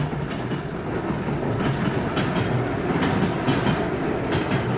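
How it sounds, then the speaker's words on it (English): A train creeps along newly laid track with no gravel ballast under the sleepers, moving at walking pace; a steady close rumble and hiss of wheels with faint periodic clacks runs throughout, with no talking. "Until they spread gravel under the sleepers, the train could only travel at about 10 kilometers an hour"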